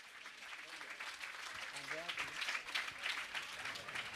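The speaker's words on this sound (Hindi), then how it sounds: "दोनों हाथ तो ताली बजाएं" An audience at a religious gathering with a monk claps their hands, a continuous patter of applause heard fairly faintly with a voice talking over it.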